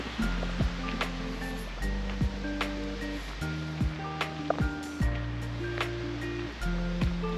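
Continuous splashing of a water fountain at Belvedere Palace in Vienna, a steady broadband wash heard close, with faint tonal hums and occasional clicks mixed in.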